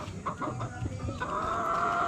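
Sweater-line gamefowl chickens clucking and calling at close range, several short bursts followed by a steadier sustained call, with no talking.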